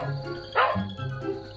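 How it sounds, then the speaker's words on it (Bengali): Cartoon dog barking in a Bengali fairy-tale scene, a short burst of a few loud yaps close by over a steady background hum, with no talk. "কুকুর ঘেউ ঘেউ শুরু করে।"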